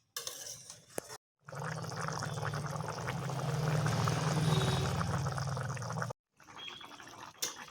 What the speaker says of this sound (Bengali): কোপ্তাগুলোকে একটু ভালো করে ফুটতে দেব, জাল হবে তারপরে।